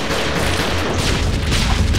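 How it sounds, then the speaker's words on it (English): Explosive slime blasts in the action RPG DeathSpank: Thongs of Virtue, a dense run of loud, booming bursts crackling continuously with no pause and no voices. "Do not like these explosions."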